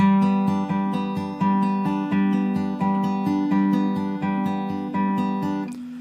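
A clean guitar in standard tuning picks the arpeggiated intro of a song, notes ringing in repeated phrases at an even tempo, played alone with no voice.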